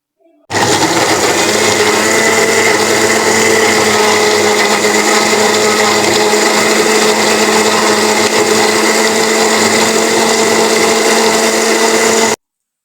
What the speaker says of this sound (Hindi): तो सबसे पहले इसको मैं जूसर मशीन में डाल के जूस निकालता हूँ।